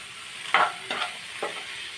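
Onion, tomato and green chilli frying together in a pan for a paneer gravy masala, with a steady low sizzle broken by a few stirring scrapes at a slow, uneven pace.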